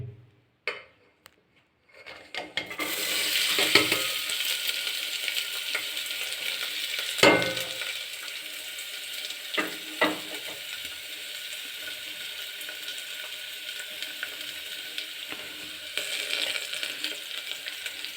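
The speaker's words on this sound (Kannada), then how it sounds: "ನಾನು ಇವಾಗ ಇದರೊಳಗಡೆ ಈರುಳ್ಳಿ ಮೆಣಸಿನ್ಕಾಯಿ ಹಾಕ್ತೀನಿ." Chopped onion and green chilli hit hot oil already holding peanuts, cumin and mustard seeds for rice pulao, bursting into a loud, steady sizzle that carries on for the whole stretch, broken by a few scraping stirs.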